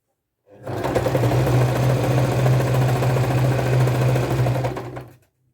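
Sewing machine stitching elastic onto a single fitted sheet, running steadily and close for about five seconds with a continuous whirring hum, then stopping.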